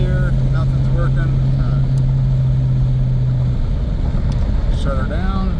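A 2010 Dodge Challenger cruises with a steady low engine drone holding for several seconds and then easing off, heard from inside the cabin under ongoing talk.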